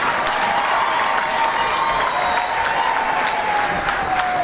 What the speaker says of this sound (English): another round of applause for the young man there